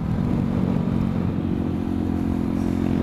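A Honda Shadow 150 motorcycle cruises on a road at around 70 km/h, its steady engine drone and wind rumble loud and continuous from the rider's position.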